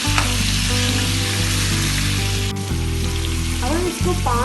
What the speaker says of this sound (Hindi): अब हम इसमें चिकन डालेंगे मैरिनेट किया हुआ। 2 से 3 मिनट तक अच्छी तरह फ्राई करेंगे।